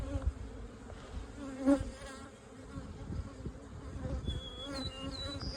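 Honey bees buzz steadily around an apiary hive, a close, continuous droning hum with individual bees flying past, moderately loud and without talk.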